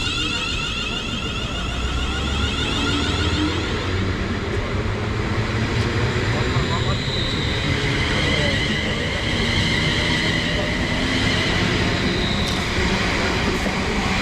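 An East Midlands Railway passenger train to London St Pancras departs a Bedfordshire station with a continuous heavy roar, rattling wheels and a rising electric whine, loud and steady throughout.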